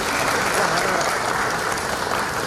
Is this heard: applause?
yes